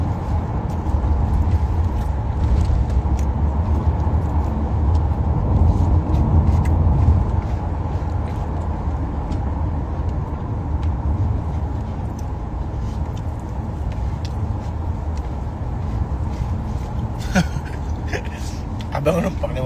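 Steady low engine rumble and road noise inside a moving car, continuous throughout with a faint clatter near the end; people talk over it.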